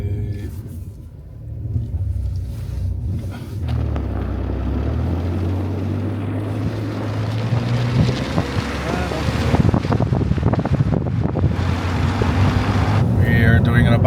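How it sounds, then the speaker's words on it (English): A car on winter tires runs over an icy road, giving a steady low rumble of tire and wind noise that swells gradually, with voices talking inside the cabin. "we are driving on ice with our winter tires"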